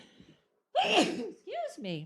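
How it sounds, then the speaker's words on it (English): A sharp gasping intake and a loud, close sneeze, followed by a brief voiced sound, with quiet talking just before. "Hold on a second, I'm going to sneeze, everyone."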